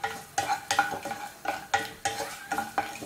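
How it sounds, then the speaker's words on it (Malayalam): Whole spices including cardamom, cloves and stone flower are stirred in hot oil in a pan, with a steady rhythm of scraping strokes about every third of a second over a soft sizzle. "ഒന്ന് ഇളക്കി കൊടുക്കാം."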